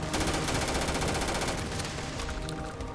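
Gunfire in Starfield, a loud, fast, evenly spaced automatic burst that runs nearly the whole time and thins slightly toward the end.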